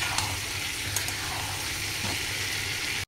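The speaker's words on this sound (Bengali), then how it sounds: "মশলাটা কষানো হয়ে গেছে, এর মধ্যে আমি জল অ্যাড করে দিলাম" Water added to a wok of frying masala, a continuous loud hiss and sizzle with faint splashes and stirring, no talk.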